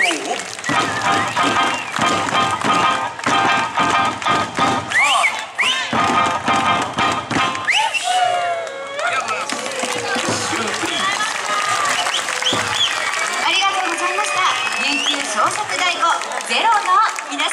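A large crowd applauds after a Ryukyu creative taiko drumming performance at an Eisa festival, with dense continuous clapping, cheers and voices shouting over it, loud and sustained throughout.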